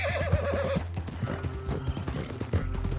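Horse in Red Dead Redemption 2 gives a loud, warbling whinny over steady clip-clop hoofbeats, with rough game ambience underneath, and no talk.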